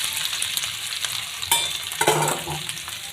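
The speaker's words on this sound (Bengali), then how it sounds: "এখন তেলটা গরম হয়ে গেল, দিয়ে দিলাম আলুগুলো।" Potatoes dropped into hot oil in a wok, frying with a dense, bright sizzle and a few sharp clicks of stirring, loud and close, with no talking.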